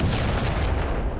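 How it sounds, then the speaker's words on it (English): Artillery barrage in the wargame Panzer Campaigns Bulge 44: a heavy, rumbling boom of shellfire with deep low-end weight that rolls on briefly and evenly without a break. "Let's just start working artillery barrages here."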